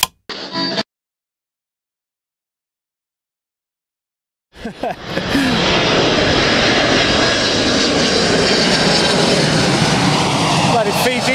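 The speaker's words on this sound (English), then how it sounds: "Bloody Fiji plane, man." Aircraft engines of a Fiji airliner start droning loudly after a short burst and a long silence, then hold as a steady, close, broadband roar to the end.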